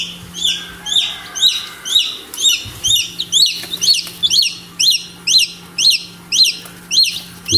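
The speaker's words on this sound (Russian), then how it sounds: "Вот он, этот птенец." A newly hatched chick in a home egg incubator peeps in a steady series of sharp, high chirps, about two per second, loud and close over a faint low hum.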